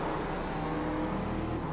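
Ford Mustang FR500S race car at Lime Rock Park, its engine a steady loud roar with a whirring drone as it runs alongside another car, close and continuous with no break.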